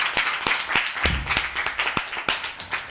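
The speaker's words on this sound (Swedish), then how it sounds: "En varm applåd!" Warm studio applause for a talk-show guest, a crowd of hands clapping briskly and evenly for a few seconds, close and lively with no speech.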